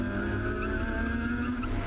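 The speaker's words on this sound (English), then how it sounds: "Love that sound of that little rotary" A Mazda rotary-engined race car at a wet Muscle Car Masters historic race meeting, its high-pitched engine droning steadily at a distance amid other circuit noise.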